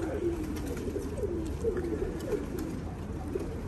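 White pigeons coo softly in a loft, several low rolling calls overlapping against a steady background hum, close by and without speech.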